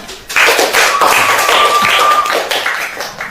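A class of students claps for a classmate's correct answer, a short burst of many hands clapping close by, fairly loud, fading toward the end.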